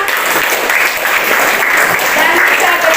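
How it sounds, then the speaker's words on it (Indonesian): Classroom applause from students after a group presentation on population dynamics in the Americas, a steady dense patter of many hands clapping continuously for a few seconds. "kita tepuk tangan untuk kelompok 5."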